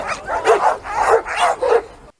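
A guard dog barks four times in a steady, close and loud series, each bark ringing with a whiny, yelping edge; no talk is heard.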